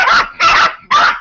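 A small dog yaps and barks in a home during a birthday gathering, giving three sharp, loud, close barks at an even pace with brief gaps between them.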